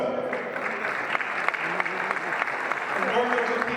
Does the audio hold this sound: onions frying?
no